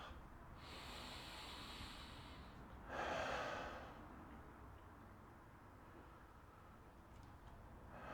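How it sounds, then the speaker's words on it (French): Breathing during a yoga triangle pose, soft steady airflow near the microphone with one stronger, louder breath in the middle, then quieter exhalation fading out. "Cette fois-ci, on rajoute la respiration."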